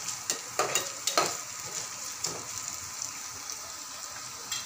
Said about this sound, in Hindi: हम अच्छे से इन्हें फ्राई कर लेंगे